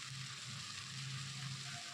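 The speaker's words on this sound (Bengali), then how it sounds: "এবার এগুলো আমি হালকা ভেজে নেব।" Vegetables boiled ahead of time, with peas, frying lightly in a pan for a noodle dish, giving a steady close sizzle with a low bubbling hiss that runs unbroken throughout.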